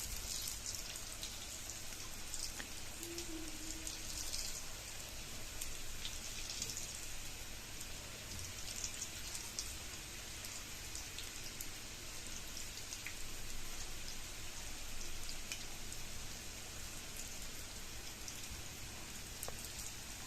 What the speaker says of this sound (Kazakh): Енді қызып тұрған майға